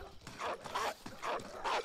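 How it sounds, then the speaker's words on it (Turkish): A dog in the video game Call of Duty Modern Warfare gives a quick series of about four rhythmic barks and yips, fairly close and evenly spaced, with a whimpering edge. "Köpek."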